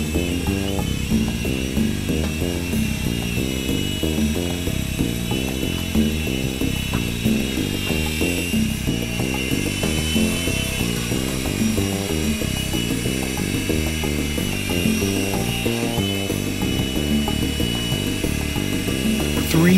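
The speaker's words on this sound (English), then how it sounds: "Three-channel, double-horse, mini palm-sized RTF helicopter with aluminum frame, lights, and gyroscope system." A Double Horse 9098 three-channel, palm-sized micro RC helicopter with an aluminum frame and gyroscope flies with a constant high, whirring motor whine, mixed with rhythmic background music throughout.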